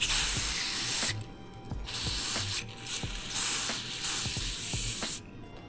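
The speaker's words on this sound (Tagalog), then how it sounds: "Kasabang nag-i-spray guys, galaw-galawin nyo yung cable." Aerosol lubricant sprayed into a Suzuki GSX 150 motorcycle clutch cable through a plastic funnel, a steady close hiss broken by short pauses, with light ratcheting clicks from the cable being worked up and down.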